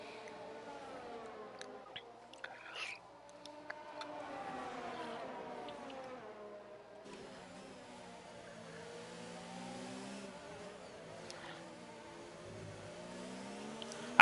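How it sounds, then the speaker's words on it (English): A Formula 3 car engine revs and glitches in a racing video game league race at the France round, its wavering, tonal engine note sustained at a moderate level throughout with no talk. "I could hear a friend's car rev glitching behind"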